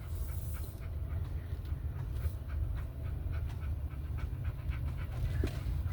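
A dog pants in quick, steady breaths close by during an outdoor walk, fairly quiet, with no talk over it.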